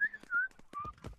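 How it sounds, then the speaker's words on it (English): Short whistled notes, a few brief tones rising and falling, with soft clicks and handling noises around them. "He was whistling"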